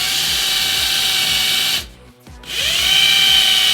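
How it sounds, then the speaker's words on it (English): Large drill bit boring through interior trim of a 2023 MINI Cooper, a loud high-pitched whirring drill that cuts out briefly midway, then spins back up and runs on steadily. "Who needs an X-Acto knife when you have a huge drill bit?"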